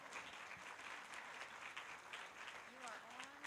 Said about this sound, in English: Please give a warm round of applause to Radical Rick